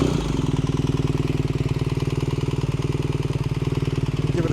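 A 2025 BMW R 1300 GS motorcycle fitted with a VanDemon exhaust fires up and settles into a loud, close, evenly pulsing idle with a deep rhythmic throb throughout.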